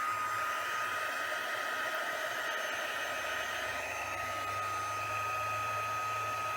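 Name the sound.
heat tool warming up for embossing powder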